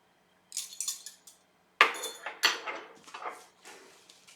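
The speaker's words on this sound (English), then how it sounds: "I'm just stirring it just to kind of incorporate the cream and the milk and the salt together" A spoon stirring milk, cream and kosher salt in a pot for homemade ricotta, producing a few light metallic clinks and scrapes in short bursts separated by quiet gaps.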